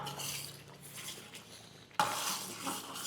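Chicken sherva masala being stirred in a cooking pot, with a spoon scraping and clinking against the metal as it mixes, close by and fairly soft, with a louder burst of stirring and clatter partway through.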